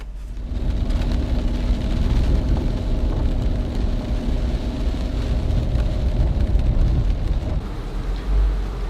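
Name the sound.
rain falling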